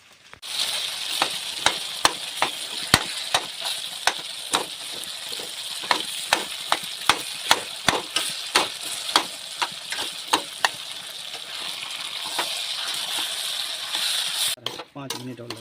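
A paratha filling of moong dal, gram flour and grated cauliflower fries in a kadhai, with continuous sizzling and a steady series of sharp spoon scrapes and clinks against the pan.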